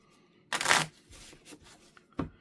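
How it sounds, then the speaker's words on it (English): A deck of unsleeved playing cards gets shuffled during a tabletop game session, one loud riffle burst followed by softer shuffling passes and a final short riffle, with no talk over it. "Yes, I'm shuffling unsleeved cards. Like they're a pack of poker cards."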